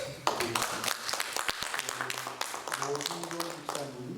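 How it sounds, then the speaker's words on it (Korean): A church congregation applauds visiting guests with a dense patter of clapping running under a voice speaking over it. "우리 감사의 박수 한번 드리겠습니다"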